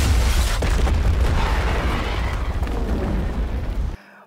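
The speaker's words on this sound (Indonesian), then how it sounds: "seketika Ikkaku meledakkan pabriknya hanya untuk membunuh Sakata." A factory blows up in a film scene, a loud, sustained rumbling blast with dense low-end roar that holds for about four seconds before cutting off abruptly.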